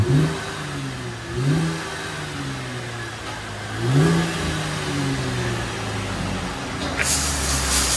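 A 2012 Chevy Camaro V6 with Flowmaster 40 Series dual exhaust revs several times, each throttle blip rising and falling over a low idle drone, close and loud, with a brief burst of noise near the end.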